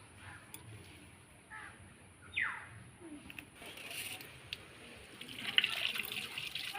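Leafy greens are rinsed under a running kitchen tap, a faint, soft splash and trickle of water with scattered drips, with a crow cawing in the background.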